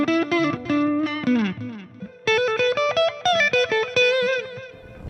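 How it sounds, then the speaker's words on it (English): Epiphone ES-339 Pro electric guitar with P90 pickups played through echo, ringing chords and single-note phrases repeating with delay tails, close and clear, with no talking. "Let's hear these pretty pickups with a little bit of echo on it."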